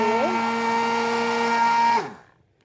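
An electric mixer or stick blender runs steadily for about two seconds, blending an oil mixture in a small container for a mold, then winds down and stops.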